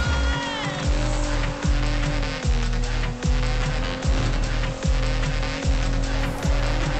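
Off-road race cars in the video game Need For Speed Heat roar steadily, with the engine note climbing and dropping back in a regular rhythm of roughly eight quick gear shifts.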